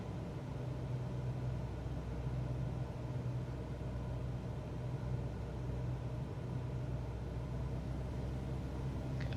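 A steady, droning aircraft engine hum in Microsoft Flight Simulator 2024, low and even throughout with no change in pitch, alone without talk.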